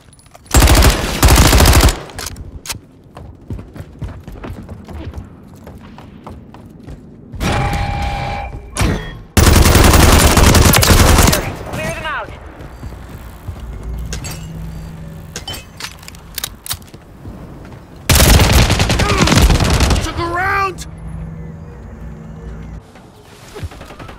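Call of Duty Modern Warfare III gunfire on PlayStation 5, with loud bursts of automatic fire separated by quieter stretches of distant shots, clatter and game voice lines.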